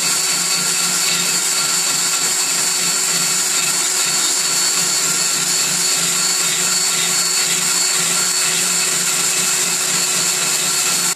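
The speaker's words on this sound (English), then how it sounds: "So I've been grinding away" A rotary grinder runs steadily inside an Edelbrock Victor X intake manifold port, making a continuous high-pitched whine with a low hum beneath it, close and loud, with no talking.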